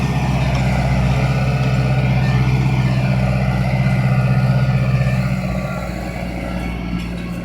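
A Deutz tractor engine drones steadily while pulling an Alpler plough across a small field, a loud continuous low hum that stays close throughout, with no talk over it.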